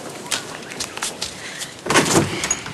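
A house door being opened to a caller, with a few knocks and clunks of handle and frame, then a louder scraping swing near the end, close by with no talking.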